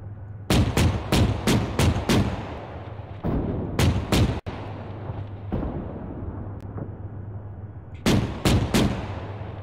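Bursts of rifle gunfire in the Arma military video game ring out in rapid volleys, several sharp cracks in quick succession with pauses between groups and a steady low hum underneath.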